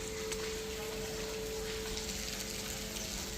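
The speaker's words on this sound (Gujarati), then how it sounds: "કેટલો વરસાદ થઈ ગયો" Steady rain falling continuously, a dense hiss with faint patter throughout, plus a low persistent hum in the background.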